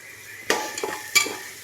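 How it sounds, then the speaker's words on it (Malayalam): Sliced onions are sautéed in a pan on a medium flame for a beef dish. A couple of short, close utensil scrapes and clinks stand over a faint sizzle, with no talk. "സവാളൊക്കെ ഒരു മീഡിയം ഫ്ലെയിമിൽ വെച്ചിട്ട് പതുക്കെ വഴറ്റിയെടുക്കണം"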